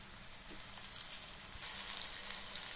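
Spiced raw banana slices fry in hot oil with a steady, dense hiss and crackle that holds evenly throughout, close and fairly quiet, with no voices.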